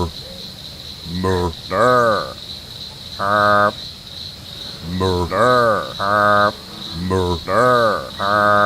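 Frogs croaking in loud, close, rhythmic pairs and triplets of throaty calls, repeating steadily over a thin continuous high insect-like whine.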